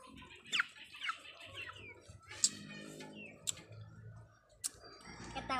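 Chickens on a home property give short, scattered clucks and squawks at moderate distance, over low background rumble and occasional clicks.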